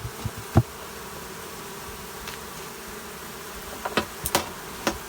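A steady low hum of bees at a hive drones throughout, with occasional soft knocks and clicks breaking in near the end; no voices.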